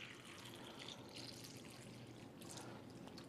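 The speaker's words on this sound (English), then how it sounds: "we're just going to simulate that by pouring some tap water in here" Tap water pours steadily over tomatoes in a bag during a kitchen demonstration, a continuous soft splashing wash that runs unbroken and fairly faint throughout.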